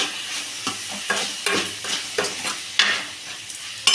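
Tomatoes frying in a pan are stirred with a spoon, giving steady sizzling broken by short, sharp scraping strokes, close and fairly quiet.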